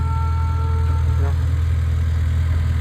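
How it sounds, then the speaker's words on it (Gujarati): A diesel engine idles steadily and close by, a low constant rumble with a faint higher tone that fades partway through, no voices. "તો જો આ એન્જિન છે, આ ઓલી ડીઝલ ગાડી છે"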